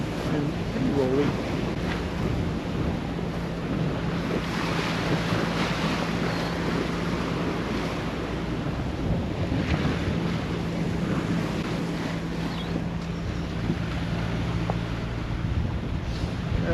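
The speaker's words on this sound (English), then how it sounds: "Every once in a while we just get a set of rollers off this back quarter that really spins us a little bit" Steady wash of waves and wind around a Hallberg Rassy 44 sailboat rolling under full headsail in the Bay of Biscay, a continuous close roar with wind buffeting the microphone and a low hum underneath.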